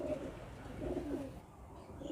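A Teddy pigeon of the Jaipur Tonk breed coos softly in low, rolling murmurs that repeat steadily and sit close but quiet, with no voices over it.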